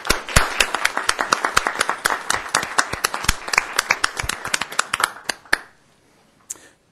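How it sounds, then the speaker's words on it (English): An audience claps for honored Citizens of the Year at a Garden Grove city council meeting, with dense, close clapping for about five seconds before it stops abruptly, leaving near silence and one faint late clap. "let's give them a round of applause"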